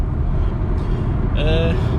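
Steady, loud engine rumble and road noise come from inside a moving car, along with a brief higher whine, and a windscreen wiper has been sounding.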